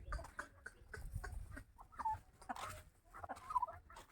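Chickens cluck softly and intermittently nearby, with short, low calls scattered over a quiet background.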